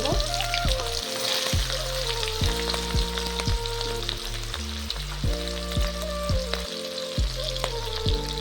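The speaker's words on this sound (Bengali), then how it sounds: "এরপর পেঁয়াজ কুচি কাঁচা লঙ্কা কুচি দিয়ে" Chopped onion and green chilli hit hot oil already fried with garam masala, throwing out a loud, crackling sizzle over a steady low tonal hum, with no speech.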